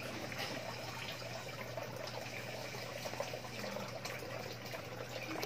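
A new submersible water pump trickles a thin stream of water, a faint, steady splashing hiss that continues evenly throughout without voices.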